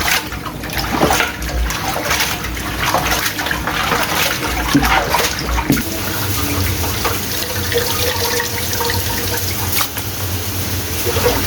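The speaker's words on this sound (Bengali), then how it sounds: "এক হাঁড়ি পরিমাণ পানি দিলাম, পানিটা একেবারে ফুটন্ত গরম করব।" A pot-full of water is poured into a cooking pot while making kacchi biryani, giving a loud, close, continuous gush and splash that settles into a steadier running flow, with no talk.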